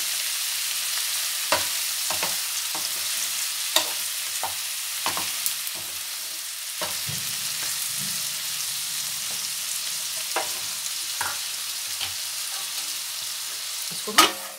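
Onions, garlic and salt fry in ghee in a pan, a continuous soft sizzle punctuated by repeated sharp stirring clicks and scrapes of a spoon against the pan, with no speech.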